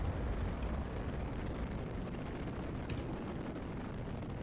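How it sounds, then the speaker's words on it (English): A rocket's first stage fires in the Kerbal Space Program video game, a steady, faint, broadband rumbling roar that holds evenly for the whole stretch. "fire the first stage"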